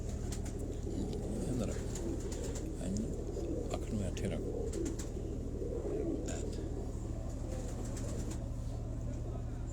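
Pigeons cooing repeatedly in a loft, soft throaty calls over a constant low hum, with occasional sharp clicks and rustles nearby.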